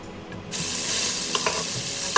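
Whole mutton leg frying in oil while hot oil is spooned over it, a loud, steady close sizzle that swells after a quieter start, with a few light clinks of a spoon against the pan.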